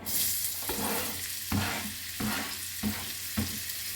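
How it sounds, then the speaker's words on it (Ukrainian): Onion and grated carrot sizzle steadily in a hot frying pan while a utensil stirs them in regular strokes, close up with no voices. "Тепер на цій же сковорідці я пожару цибулю і морквину потерла."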